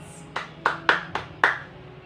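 A classroom group gives itself a round of applause: five separate, sharp hand claps spaced unevenly over about two seconds, close and moderately loud, with no voices.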